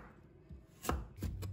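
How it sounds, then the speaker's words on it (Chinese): A knife slices carrot into strips on a cutting board, two or three crisp close chops rising out of near silence. "再改刀切成丝。"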